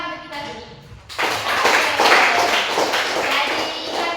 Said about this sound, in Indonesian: Tepuk tangan untuk kita dulu.